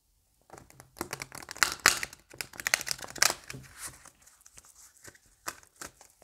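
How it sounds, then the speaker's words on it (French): A deck of tarot cards is shuffled by hand close up, giving irregular bursts of crisp rustling and riffling with short pauses between them and no voices. "bien mélanger les cartes"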